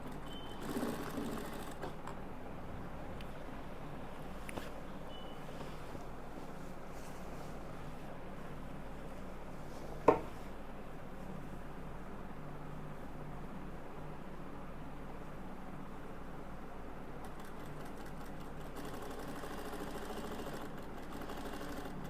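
A sewing machine runs a straight stitch along the waistband of a ghaghra skirt, giving a continuous, even mechanical whir for the whole stretch with one sharp click midway.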